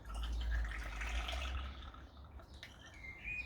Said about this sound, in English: you want to grab your Grove 42, and your wine glass, and you want to pour 50 millilitres